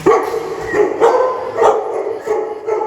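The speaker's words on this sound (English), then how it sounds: "the sound of barking" Dogs bark over and over in quick, overlapping bursts, loud and near, with barely a pause between them.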